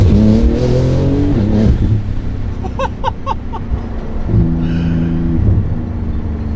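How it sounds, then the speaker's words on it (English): A Porsche 911 GT2 RS with 777 hp accelerating near flat out, its engine note climbing in loud rising sweeps, dipping briefly at a gear change before pulling hard again, close and alone without talk. "what we should do is near enough flat down acceleration."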